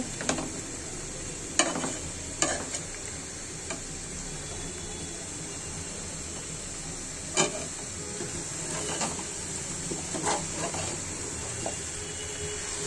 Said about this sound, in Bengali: এখন আমি চাল কুমড়াটা অল্প করে কষিয়ে নিচ্ছি